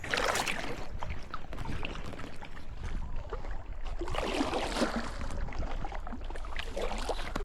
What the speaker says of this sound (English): So I'm gonna paddle for a couple miles and then I'll find a place to camp out up this way.